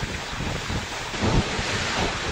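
Loud, roaring gusts of strong wind and heavy rain from Typhoon Ofel in Cagayan buffet continuously up close, with a surging swell in the middle.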